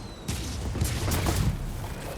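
Fireworks going off in the Spider-Man 2 video game, a run of sharp pops and bursts spread over a couple of seconds over a low rumbling game soundscape, fairly close and steady in loudness.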